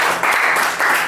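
Audience applause, a dense burst of clapping from a crowd that swells twice in about a second, loud and close.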